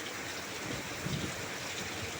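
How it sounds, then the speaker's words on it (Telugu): Heavy rain pours down at the Tadepalli Gate Centre junction, a steady, dense hiss with no pause, close and even throughout, with no voices. "ఫుల్గా ఉంది వాన."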